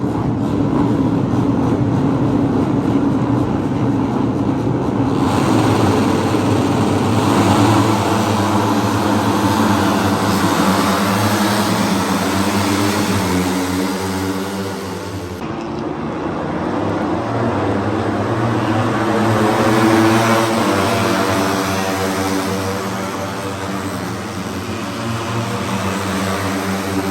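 Moto3 racing motorcycles at the 2022 MotoGP round at Chang circuit fill the air with a loud, continuous, high-pitched engine whine. The sound dips briefly around the middle as machines pass, then swells again.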